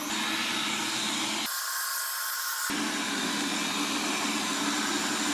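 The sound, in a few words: Xiaomi Viomi SE robot vacuum cleaner running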